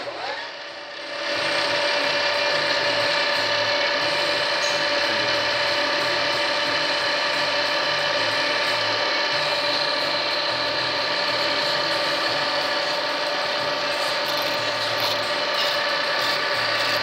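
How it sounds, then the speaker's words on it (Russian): A steady machine drone with a high whine starts after a brief quiet moment and runs unbroken, a drill grinding out a broken tap from the spark plug hole of a Hyundai H1 cylinder head. "После всех произведенных операций Виталий приступает к высверливанию остатков метчика."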